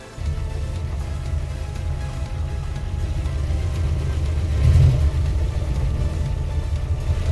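A 1934 Ford car engine idling with a steady, smooth low rumble throughout, close and fairly loud, with a brief swell in the middle and no talk.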